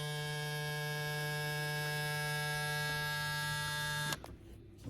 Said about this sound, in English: But that's the clipper. Here's the sound.